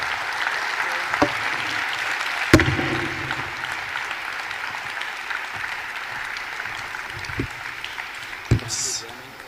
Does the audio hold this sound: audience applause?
yes